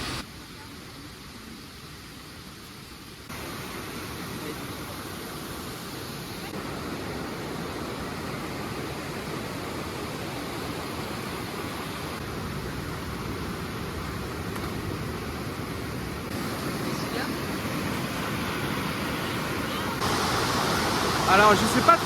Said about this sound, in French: Celle-là c'est une cascade, apparemment elle fait 15 mètres de haut.